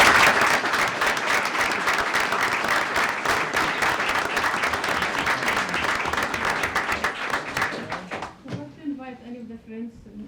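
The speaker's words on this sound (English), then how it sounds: "Let's give him a round of applause" People at a Gaithersburg Mayor and Council meeting give a round of applause, sustained crisp clapping from a room full of people that thins out and gives way to talking near the end.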